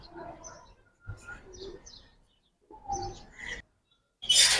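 Giribaz and khaki pigeons coo and rustle in an enclosed loft, several low calls in bursts with gaps, ending in a loud flutter of wings.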